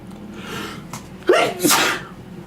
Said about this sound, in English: It's not even running, it's just like I'm sneezing constantly.